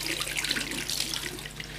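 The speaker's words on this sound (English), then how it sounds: "Water is back running again." Steady, full hiss of water running from a household tap after the supply is restored, a continuous close splashing stream with no talk.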